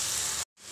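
Tomato masala paste hitting hot mustard oil gives a loud, dense sizzle that breaks off into a brief silence and then resumes.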